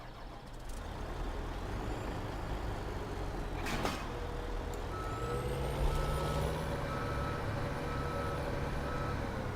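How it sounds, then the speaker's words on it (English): A JCB vehicle in Farming Simulator 17 sounds steady reversing beeps over a constant engine rumble, with a brief air-brake hiss partway through and a tone rising as the engine revs. "Let's get the JCB rolling here."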